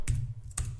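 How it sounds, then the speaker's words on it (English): Fingers type on a computer keyboard, giving two distinct, close keystroke clacks about half a second apart, with no voice. "this is easy as just typing in job underscore"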